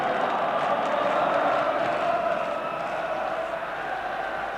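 A large football crowd roars and cheers in a stadium during a Euro 1988 qualifier between Ireland and Scotland, a dense, sustained wall of voices that fades slightly toward the end.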